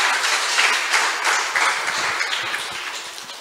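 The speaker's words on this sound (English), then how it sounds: "Let's clap to God." A church congregation claps together during a worship service, producing loud, dense, rhythmic applause that gradually fades over a few seconds with no talk.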